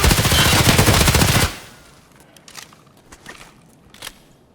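Rapid automatic gunfire in the Escape from Tarkov shooter game blasts loudly for over a second, followed by quieter scattered shots, clicks and movement noises.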